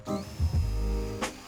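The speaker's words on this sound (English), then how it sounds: "I'm using a Forstner bit to make the holes" A power drill with a Forstner bit bores holes in wood, a brief whirring whine that spins up, holds for about a second and cuts off.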